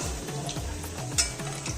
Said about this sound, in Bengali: আদা তেল দিচ্ছি আর ভাজছি। দেখুন কড়া ভাজবো না, হালকা ভেজে নেব।